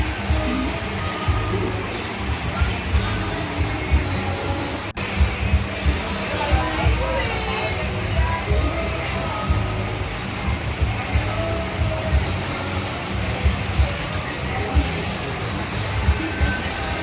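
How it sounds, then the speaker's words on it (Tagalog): Black spray paint hisses from an aerosol can in a steady broad wash for many seconds, with short pauses between bursts, close and fairly loud, while people talk faintly nearby. "Black spray."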